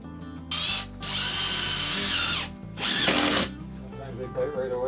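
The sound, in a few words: power drill driving screws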